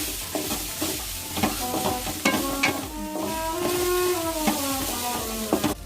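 Grated carrot and coconut sautéed in a pan produce a continuous sizzle, broken by repeated scraping strokes of a stirring spoon, heard close with no voices.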